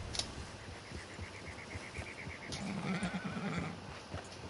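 A horse whinnies in the video game Red Dead Online, a high neigh rising in the middle of the clip over steady hoofbeats and outdoor ambience, fairly close and without talk.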